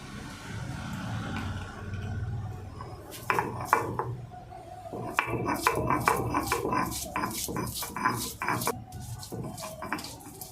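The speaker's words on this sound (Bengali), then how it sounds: "আর বাকি আদা একটু আধা বাটা করে নেব" Ginger coarsely ground on a grinding stone, close scraping and knocking strokes that start sparse and turn into a busy run of clattering hits, with no talk.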